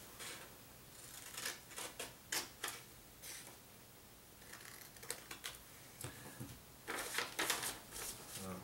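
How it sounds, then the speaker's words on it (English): Scissors snipping out the marked paper sections of a calculus review foldable; soft, close crisp cuts in short irregular clusters with quiet pauses between them, no voices. "go ahead and cut those out as well"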